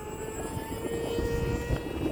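Electric motor and propeller of a Hobbyzone Aeroscout S RC plane, flying in strong winds: a steady whining drone with a thin high tone and wind rumble underneath, fairly close and continuous, no talk.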